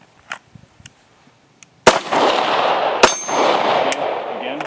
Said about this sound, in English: Now let's see you live fire.